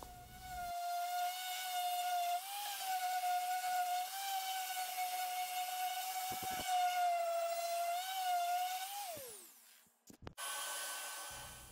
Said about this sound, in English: here we're just doing the sides with a little orbital sander